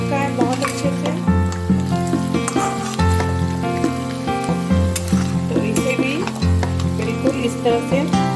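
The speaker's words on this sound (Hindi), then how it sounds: "इसे भी मैं बिल्कुल परवल की तरह फ्राई कर लेती हूँ। आलू भी फ्राई हो चुका है बहुत अच्छे से।" Potatoes frying in oil in a kadhai give a continuous, fairly loud sizzle with occasional scraping, mixed with steady background music throughout.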